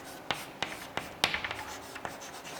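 A chemical formula is written by hand, several distinct pen or chalk taps and short scratchy strokes in an uneven rhythm, close and fairly quiet, no talk.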